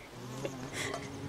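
Bees buzzing in Don't Starve, a steady, close insect drone that swells briefly midway, with no talk over it.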